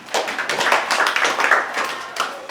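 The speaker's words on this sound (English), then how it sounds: "Let's clap for him." A chemistry class claps for a student, a short burst of clapping from a group in a room, uneven and fairly close, lasting about two seconds.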